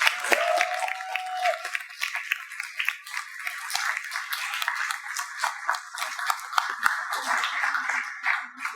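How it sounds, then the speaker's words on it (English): An audience on a stage event claps in a dense, lively round of applause that lasts throughout, with a short tonal ping at the start. "Please give her big applause."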